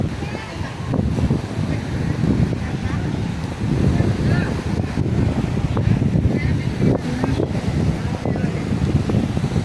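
Rough sea waves and strong wind at a dark-sand beach on a family outing, a steady loud roar of surf and buffeting wind against the microphone throughout, with no talk.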